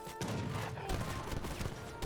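Continuous crackle of massed musket and cannon fire from units battling in an Age of Empires 3 match, a dense busy clatter of gunfire rolling on without pause.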